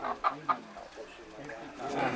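A chicken clucks in short bursts, two or three sharp calls near the start, at a Philippine harvest ritual where it is about to be offered as a sacrifice, with quieter background sounds and faint voices around it.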